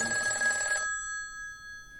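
A beige telephone bell rings loudly in a single burst that cuts off just before the one-second mark, leaving a faint high ringing tone and quiet room noise.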